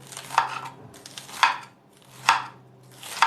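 A knife chops finely through lettuce and curly lettuce on a board, four crisp, evenly spaced strokes with short pauses between, close and clear, no talking.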